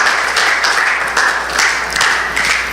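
A church congregation claps to acclaim the Lord, a dense steady wash of applause from many hands, loud and close, with no talk over it.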